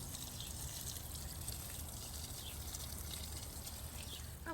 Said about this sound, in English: the water is free flowing from here.